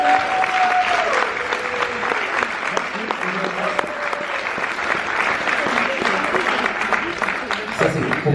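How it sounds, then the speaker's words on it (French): An audience at a public-speaking conference in Paris breaks into loud, sustained applause, dense clapping filling the room throughout while a voice or two briefly carries over it. "Je demande d'applaudir très très fort Monsieur Anthony Névo."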